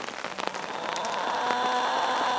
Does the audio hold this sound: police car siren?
no